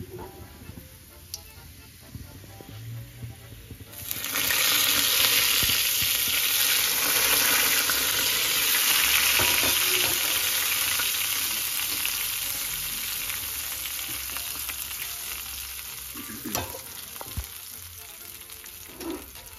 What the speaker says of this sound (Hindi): अब इसमें डालूंगी मैं जीरा और ये कड़ी पत्ता। तो लहसुन भी ब्राउन हो चुका है और जीरा भी।